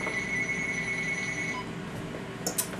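Telephone rings with a steady high electronic tone in a quiet room, sustained for over a second and then stopping, followed by faint small clicks and low background hum.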